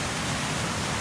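A waterfall in Snowdonia, North Wales, gives a loud, dense, unbroken rush of falling water filling the whole moment with no voices.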